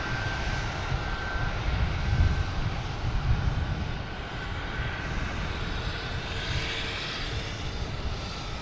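Southwest airliner in a Hawaiian-inspired special livery taking off from Boston Logan: a loud, sustained jet engine roar with a thin whining tone, swelling slightly and then holding steady as it powers away.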